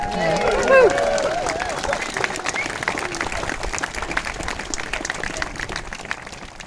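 A crowd cheers and claps at an outdoor gathering, a burst of voices and whoops at the start giving way to sustained applause mixed with babble and some talk.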